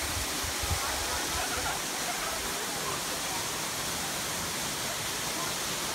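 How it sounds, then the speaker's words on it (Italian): Famous waterfalls in Erzincan, Turkey, pouring as a steady, dense roar of rushing water that fills the whole stretch, with faint talk briefly audible beneath it early on. "Famose cascate."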